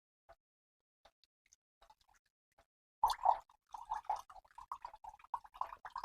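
Beet-salt liquid with sandy sediment is poured into a wok, starting with a few faint drips and then becoming a denser run of splashing, plopping liquid at close range; no talking.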